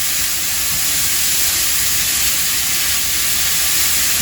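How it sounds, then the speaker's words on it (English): Diced ham sizzling in a hot wok while being stirred for fried rice, a loud, steady hiss that holds evenly from start to finish. "To that, we're going to add our ham. Stir it up all in there."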